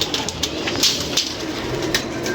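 Pigeons coo amid a dense, noisy background of fluttering and rustling, with short sharp bursts over a steady hiss and no talk.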